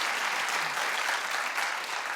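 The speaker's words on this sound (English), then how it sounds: "you can clap for that if that's how you feel" A daytime talk show's studio audience claps in a dense, steady wash of applause that runs close and unbroken for the whole stretch, with no voices over it.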